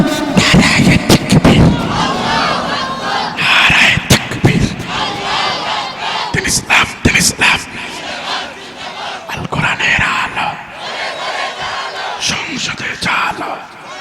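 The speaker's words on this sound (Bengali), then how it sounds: "সবাই মিলে আস্তে করে দাও না স্লোগান" A crowd at a Bangladeshi religious rally in Mymensingh chants slogans in unison, loud and rough. Repeated bursts of massed voices rise and fall, with brief pauses between shouted lines.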